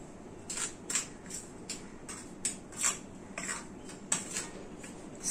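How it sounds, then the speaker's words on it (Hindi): Pickle masala and salt being mixed together in a bowl for a baby mango pickle, a series of soft clinking scrapes of a spoon against the bowl at an uneven rhythm, close and fairly quiet, with no talking. "अशा प्रकारे मी हे लोणच्याचा मसाला आणि मीठ एकत्र करून घेतलंय।"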